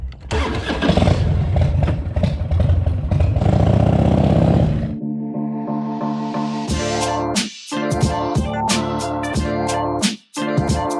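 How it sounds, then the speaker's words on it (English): A Harley-Davidson Fat Boy motorcycle cranks briefly, then its V-twin engine fires and settles into a loud, lumpy idle with a few sharp revs, close by and with no voices. "Gotta turn my bike on."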